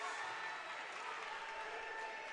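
A home basketball crowd at a Tonka boys' game roars loudly and continuously during the closing seconds of overtime, a dense wall of cheering and noise.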